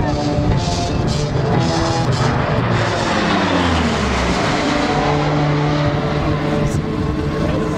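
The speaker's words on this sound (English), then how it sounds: "entering from the north, the Royal Australian Air Force C-130H from 37 Squadron" A Royal Australian Air Force C-130H from 37 Squadron flies past at the Avalon 2009 airshow, its engines making a loud, steady drone with a pitch that sweeps downward as it goes by.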